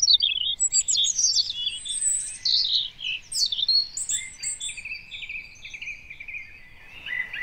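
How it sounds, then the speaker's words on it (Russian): A European robin sings in a forest, a near, clear stream of high, fluting and twittering phrases over a soft background hum, with no voices. "зарянка."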